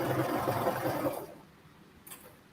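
A sewing machine runs through stretchy leggings fabric in a short close burst that stops abruptly, followed by near silence and a faint click.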